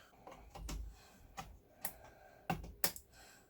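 A RAM module snaps into a PC motherboard slot during a memory upgrade, giving a few sharp, close plastic clicks spaced irregularly over a quiet background, with no talking.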